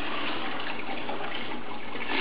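Water and debris are sucked up out of aquarium gravel through a siphon tube, giving a steady, close hiss and gurgle of rushing water that runs evenly throughout with no voices.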